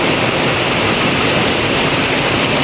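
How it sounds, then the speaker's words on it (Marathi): Heavy rain pours steadily in Badlapur, a dense, loud, continuous hiss and rush of water close by with no break and no voices. "बदलापुरात लय जोरदार पाऊस पडतोय सकाळपासून"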